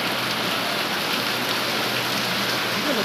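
Heavy rain pours down steadily in a continuous, dense hiss that stays loud and even throughout, with no voices over it.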